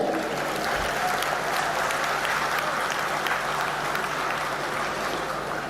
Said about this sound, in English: let's give a big applaud to the women of India